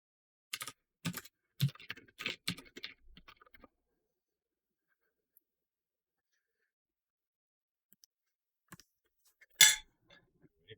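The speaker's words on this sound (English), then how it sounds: "Keyboard is loud." Loud computer keyboard typing: a quick run of sharp, close clacks during the first few seconds, then near silence with a few isolated taps and one louder clack near the end.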